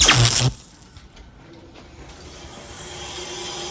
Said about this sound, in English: That's the reversing valve making that noise.